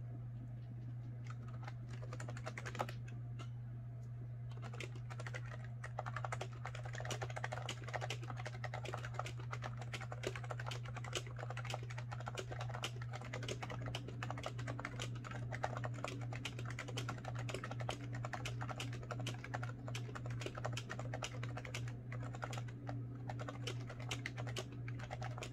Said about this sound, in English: This is a Happy Hacking keyboard, the professional hybrid, because it has the Bluetooth.